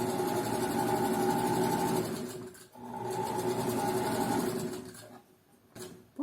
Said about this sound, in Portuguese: Retrocesso no começo da costura